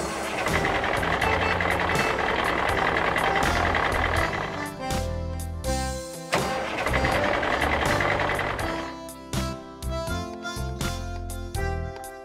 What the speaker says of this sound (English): Catering truck.